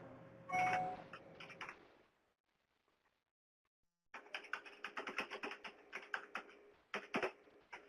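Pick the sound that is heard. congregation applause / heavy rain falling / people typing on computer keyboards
people typing on computer keyboards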